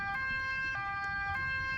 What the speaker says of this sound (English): I heard sirens in the distance and was happy to see an ambulance